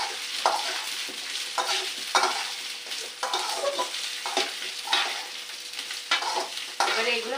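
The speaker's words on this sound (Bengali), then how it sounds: "এবারে আমি কলাগুলো এই আলুগুলোকে দিয়ে দিচ্ছি এর ভিতরে, দিয়ে কষিয়ে নেবো" Raw banana and potato pieces sauté in hot oil in a pan for a fish-and-banana curry, with a steady sizzle broken by repeated scraping stirs at a loose rhythm, close up, with no talking.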